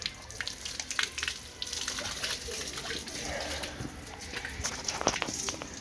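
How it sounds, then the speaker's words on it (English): Water pours from the pulled drain of a Forest River Alpha Wolf 26RL-L travel trailer's tank, a fairly quiet, continuous gush with scattered splashes and splatters over several seconds. "You just pull this, and water will come out like that."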